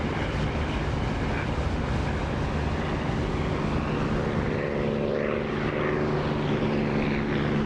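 Steady propeller aircraft engine drone with the canopy open in the DCS flight simulator, a continuous broadband roar with a low hum and a slight rise in tone toward the end, loud and unbroken with no talk.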